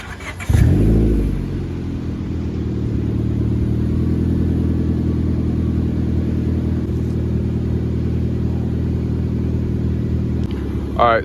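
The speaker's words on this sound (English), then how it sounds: "I'll give you guys a cold start real quick," A 2004 seventh-generation Honda Civic fires up from cold with a short cranking burst, then settles into a steady, loud idle that drones on close by without interruption, with no one talking.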